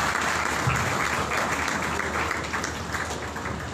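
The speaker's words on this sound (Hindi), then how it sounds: "जितनी बरकत मिली है उतनी ही जोरदार तालियां आज के खूबसूरत कलाम के लिए।" Loud, dense applause from a church congregation during a morning prayer service fills the space steadily, fading only slightly toward the end, with no voices over it.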